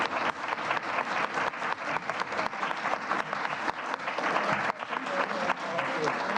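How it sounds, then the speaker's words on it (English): Sustained clapping from a sizable audience at the end of a panel discussion, dense and steady throughout, heard from within the room. "I'd love to ask everyone to join me in a big round of applause."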